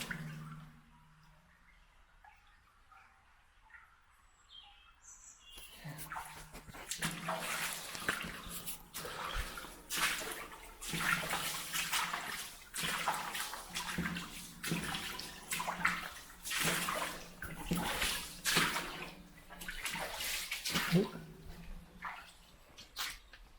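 After a quiet start, water begins rushing and splashing loudly through a Victorian culvert in Leicestershire, a turbulent gushing flow that surges and echoes.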